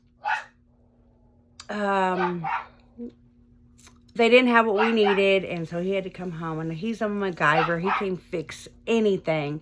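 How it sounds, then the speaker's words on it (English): A pet dog barks and yips in short bursts at a distance behind someone speaking continuously in a quiet room, the barks surfacing between and under her sentences. "I'm sorry my dog is barking."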